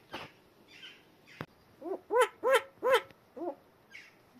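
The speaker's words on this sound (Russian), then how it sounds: "Что это за звуки? Я тоже в шоке, сова, я тоже." A young tawny owl gives a series of harsh, rasping hooting calls, about six loud rhythmic bursts close by with breathy noises in between.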